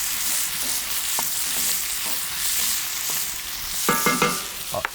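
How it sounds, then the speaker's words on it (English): Halved baby potatoes stirred in a pan, giving a steady sizzle with a few scraping clicks of the spoon near the end. "Add your potatoes right to it. Stir that up a little bit."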